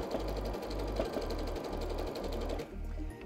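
A sewing machine runs zigzag stitching over pleats in felt, making a loud, steady mechanical whir with a rapid rhythmic pulse that carries on continuously, then drops off near the end.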